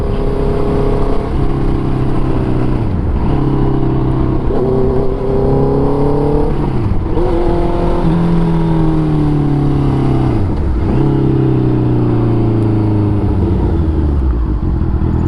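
A modified Honda CB650F with a quickshifter pulls hard through the gears, its engine whine rising and then dropping at each quick shift, loud and close throughout.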